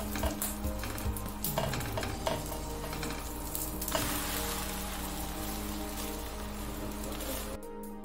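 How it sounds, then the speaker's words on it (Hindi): A roti is flipped and cooked on a hot tawa, giving a steady close sizzle throughout with a few soft scrapes and taps of the turning, ending abruptly. "इसको फ्लिप कर लेते हैं, दोनों साइड से पका लेते हैं।"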